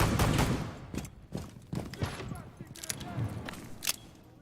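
P90 submachine gun fire in Rainbow Six Siege comes as several sharp, rapid bursts of shots and impacts, loud and close, mixed with game effects and a voice talking over it.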